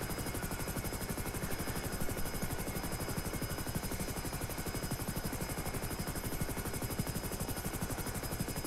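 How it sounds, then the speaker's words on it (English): A military attack helicopter from GTA V, the FH-1 Hunter, flies with a steady, dense rotor thrum that stays at an even level throughout, with no voices over it. "Man, I really like this helicopter."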